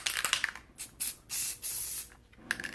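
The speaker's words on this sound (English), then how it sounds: "Now I'm just going to kind of spray off to the side." An aerosol spray can sprays in several short hissing bursts of varying length, close and fairly loud, with brief pauses between them.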